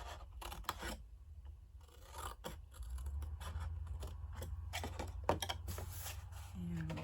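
Large scissors snipping paper cardstock for a craft box, a few quiet scattered cuts and rustles at close range under soft background hum, with faint talk.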